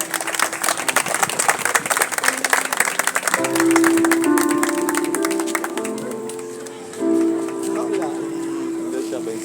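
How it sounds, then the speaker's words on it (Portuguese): An Adventist congregation at an outdoor service bursts into applause, dense clapping at first that gives way to sustained voices and tones, with speech over the top. "E glória a Deus e palmas para Jesus"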